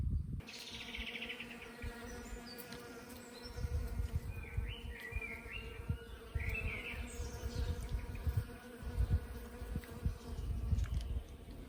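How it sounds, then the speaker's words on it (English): A faint, steady buzz of bees on broccoli flowers in a garden, with occasional chirps in an otherwise quiet outdoor setting. "you might be able to hear the bees on the broccoli flowers"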